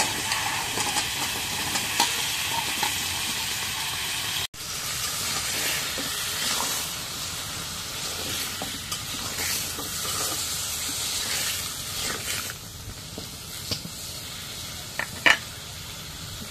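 Sweet pumpkin goes into hot spiced fish curry with gota and puya fish, giving a continuous close sizzle and hiss for the whole stretch, with a brief break early on and a few small clinks near the end.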